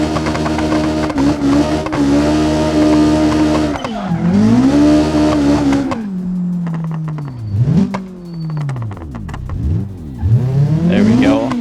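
Engine of a car in the BeamNG driving game heard from outside, revving up and down loudly with shifting pitch sweeps, gear changes and brief tire squeals, the drone falling and rising again as the car accelerates and brakes.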